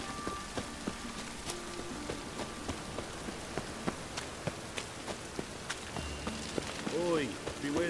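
Rain from The Witcher 3 patters steadily on surfaces at a low level, with scattered sharper drops and footsteps throughout and a game voice breaking in near the end.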